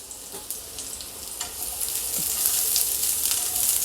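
Onions frying in hot oil, a rising sizzling hiss with scattered small pops and crackles that grows steadily louder, close by and with no talking.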